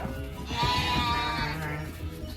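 Sheep bleat on a farm during shearing day. A few wavering bleats are heard up close, with flock movement and low rustling underneath.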